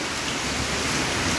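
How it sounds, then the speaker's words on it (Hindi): Heavy rain pours down in Dehradun, a dense, steady hiss with no breaks and no voices across the short stretch. "अरे यार बारिश आ रही है"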